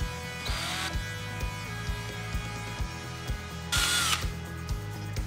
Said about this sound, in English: Then we're just going to drill it out.